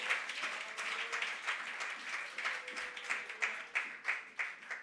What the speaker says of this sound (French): we clap for the Lord?